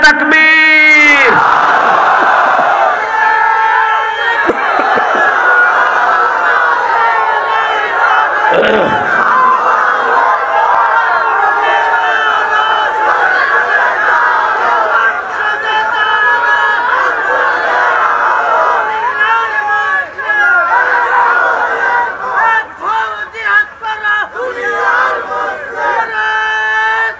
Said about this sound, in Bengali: এই দেশের জাতীয় স্লোগান হওয়া দরকার নারায়ে তাকবীর।